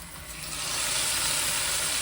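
Steady, loud sizzling as hot tempering oil is poured into fish curry, a dense crackling hiss that swells slightly and holds throughout.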